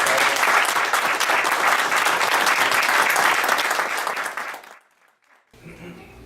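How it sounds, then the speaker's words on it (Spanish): Audience applause at a Spanish-language lecture honoring composers Carlos Chávez and José Pablo Moncayo, a loud, sustained crowd clapping that fades out near the end, followed by a short pause and quiet room noise. "Por favor, vamos a darle un aplauso."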